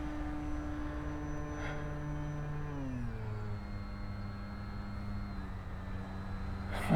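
A Durafly Gloster Gladiator RC biplane in flight, its electric motor a steady tonal whine that dips in pitch midway as the plane passes or throttles back, heard at moderate distance with no talking.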